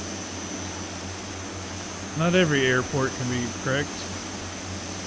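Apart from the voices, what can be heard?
DHC-6-300 Twin Otter engines in the video game FSX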